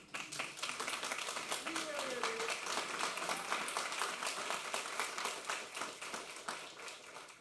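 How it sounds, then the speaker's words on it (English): An audience at a panel session on game jams and youth careers claps in a sustained round of applause, with dense overlapping hand claps at moderate distance and some talk mixed in. "one last round of applause"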